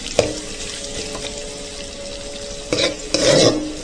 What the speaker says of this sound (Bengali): পেঁয়াজগুলো আমি নেড়ে ছেড়ে একটু বাদামি কালার হওয়া পর্যন্ত ভেজে নিব